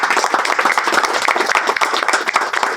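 Audience clapping at a birthday celebration for Prithviraj Yadav: dense, steady applause from a crowd, loud and close, filling the whole stretch without pause.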